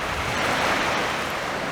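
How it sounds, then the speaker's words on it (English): Ocean waves washing onto the shore at Bell Island, Newfoundland, a steady loud broadband rush of surf with some wind, heard alone without voices. "love the sound of the water."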